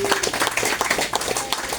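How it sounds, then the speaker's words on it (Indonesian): An audience at a Sundanese community organization's inauguration ceremony in Gowa claps for honored guests, brisk scattered clapping that forms a lively burst, with faint voices mixed underneath. "Tepuk tangan dulu buat beliau-beliau."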